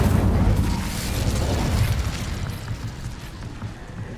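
An Incendio fire spell goes off in a Harry Potter video game, a loud fiery whoosh and roaring burst that slowly dies down into a rumbling crackle.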